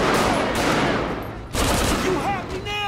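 Rapid gunfire bursts from GTA 5 gameplay crackle loudly in two clusters separated by a short gap, with whooshing and chirping game effects layered on top.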